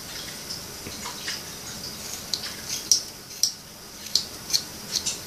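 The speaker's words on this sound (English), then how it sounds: "Just going to go across the top and just snip, snip, snip, snip." Small scissors snip through yarn while trimming a homemade pom pom garland, giving a run of soft, crisp clicks close by over a quiet hiss, growing more frequent toward the end.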